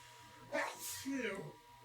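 A single close sneeze with a quick sharp burst, followed by a brief murmur of voice, all fairly quiet.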